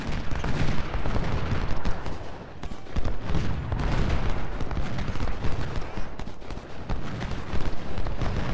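Massed troops fire rolling volleys in Ultimate General: Civil War, a dense, continuous crackle of musketry and booming shots that stays loud and sustained throughout, with no speech over it.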